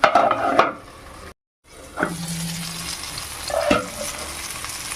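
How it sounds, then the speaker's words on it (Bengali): Pumpkin pieces fry in a covered pan as a bright, close sizzle with clattering lid and spatula knocks, a brief total silence, then the sizzling resumes with a low hum and more scraping. "কুমড়োগুলো দেখুন খুব সুন্দরভাবে ভাজা এবং সেদ্ধ হয়ে গেছে"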